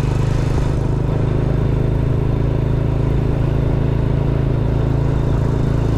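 An aging motorcycle engine runs steadily on a road ride between Montalban, Rizal and Antipolo, a loud continuous mid-pitched drone close by, with no talking.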